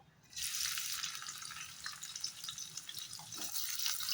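Chopped onion dropped into hot oil with whole cumin seeds, a loud steady sizzle bursting on suddenly and frying on close and continuous.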